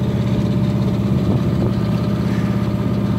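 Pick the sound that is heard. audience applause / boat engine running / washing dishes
boat engine running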